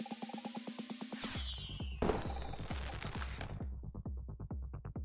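Fireworks in the video game TOEM go off in a rapid crackling series of popping bursts, steady and rhythmic like a string of firecrackers, with a brighter whooshing burst partway through, alone and close.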